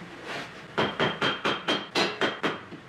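Seven sharp metallic hammer blows drive a car's CV axle into the wheel hub in a steady rhythm, close and loud, ringing briefly after each strike.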